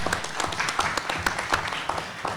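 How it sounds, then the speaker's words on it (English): Applause from an audience at a college web development forum, a dense patter of claps filling the room at steady moderate loudness for a couple of seconds. "let's give them a round of applause right now"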